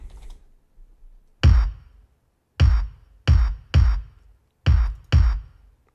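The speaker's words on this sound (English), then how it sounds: "let's listen to the kick drum" Six deep, punchy kick drum hits, each a low thump with a short decay, arriving in an uneven pattern with no other instruments.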